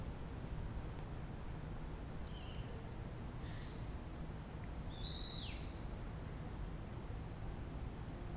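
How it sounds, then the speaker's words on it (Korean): Faint bird calls chirp a few times outdoors in a university campus park in winter over a steady airy hiss of wind, three short bursts standing out from the background. "바람 소리, 새 소리, 여기저기 사람들이 지나가는 소리"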